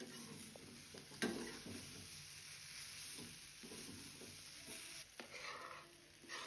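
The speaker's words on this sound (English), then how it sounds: "Now add boiled potato and mix well. Mash slightly if it is hot." Boiled potato being mixed and mashed in a hot pan, a soft steady scrape and sizzle with occasional knocks of the spoon against the pan, close and quiet, with no talking.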